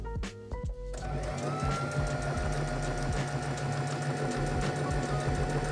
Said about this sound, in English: I'm just going to go ahead and stitch down to connect all of these points